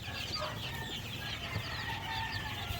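Native game fowl, rooster and hen crosses including asil and shamo crosses, cluck and call softly in a pen, faint and continuous over low background noise without talk.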